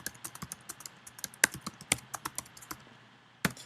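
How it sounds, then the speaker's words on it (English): Typing on a computer keyboard while setting up a Microsoft Word document, a rapid close series of crisp key clicks with a few louder strokes, a short pause and a final tap. "Now, when I start typing,"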